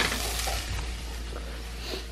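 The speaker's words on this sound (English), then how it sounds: "So I'm just frying up a little bit of tofu." Tofu and fake bacon sizzle and spit steadily in a hot pan, a continuous crackling fry close by with no voices.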